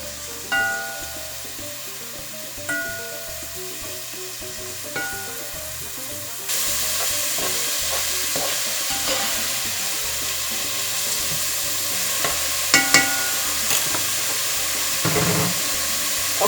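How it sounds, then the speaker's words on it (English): Peppers and vegetables sautéing in a hot pan for Cuban-style chicken and rice, a steady sizzle with occasional stirring clatter, growing louder and hissier partway through, with no talk. "We're going to saute everything well here."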